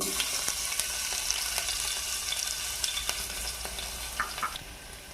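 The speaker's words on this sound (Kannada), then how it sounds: "ಈಗ ನೋಡಿರಿ ಬೆಳ್ಳುಳ್ಳಿ ಜಜ್ಜಿತ್ತಲ್ಲ ಅದನ್ನು ಹಾಕ್ಕೊಳಕತ್ತೀನಿ" Crushed garlic dropped into hot oil already holding mustard seeds for restaurant-style dal, frying with a steady close sizzle, light stirring scrapes and scattered small pops throughout.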